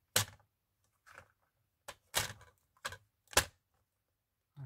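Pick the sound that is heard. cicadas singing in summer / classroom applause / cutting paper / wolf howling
cutting paper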